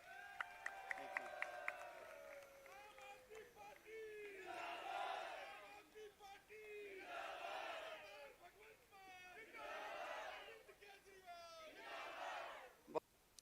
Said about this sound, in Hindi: मान साहब जोरदार तालियां नाल स्वागत।